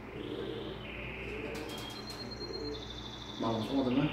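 A pigeon coos nearby in an outdoor setting, soft low calls mixed with faint chirps and background noise while people speak.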